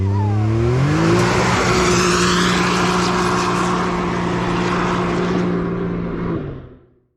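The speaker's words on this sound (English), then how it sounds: "the next side-by-side we rented was the Can-Am X3 Turbo RR" A Can-Am X3 Turbo RR side-by-side launches from a standstill. The loud turbo engine revs and climbs steadily for about six seconds, then quickly fades as it pulls away.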